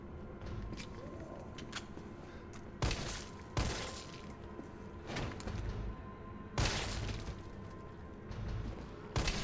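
Handgun fire in the Resident Evil 3 remake on Inferno difficulty: three or four sharp, loud shots spaced a couple of seconds apart, cutting through a steady rumbling game ambience.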